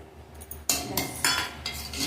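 A metal spoon scrapes and knocks against a cooking pot while cumin rice seasoned with salt and black pepper is mixed, giving several distinct clinks and scrapes in an irregular rhythm, close and clear with no talk.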